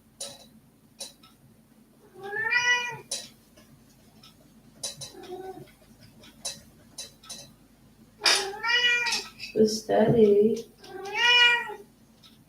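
A cat meows several times indoors, drawn-out calls close by, with a person speaking briefly between them and faint ticking underneath.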